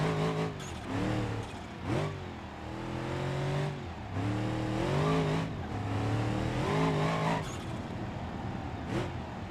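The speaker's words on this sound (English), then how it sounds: "I love that I finally got an efficient V8 in the Rotson." A V8 engine in the BeamNG.drive video game revs loudly through repeated rising gear pulls, each climbing pitch dropping at a shift, with continuous drone and occasional tire noise, no voices.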